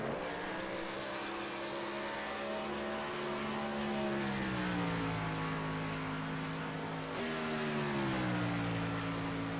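Race cars circle a track with sustained engine whine and gear-shift pitch drops, loud and steady throughout with no talk.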